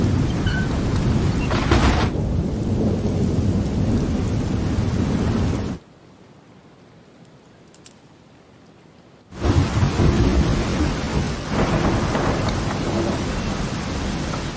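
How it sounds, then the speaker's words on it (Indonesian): Rain and a thunderstorm on a small island: heavy, steady rainfall with rolling thunder, broken by a few seconds of near silence before the downpour resumes just as loudly. "hingga datanglah hujan untuk pertama kalinya sejak sekian lama"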